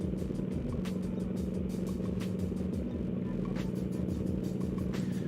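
A car engine in the BeamNG driving game hums with a steady low drone and rhythmic revving pulses, continuous and fairly close.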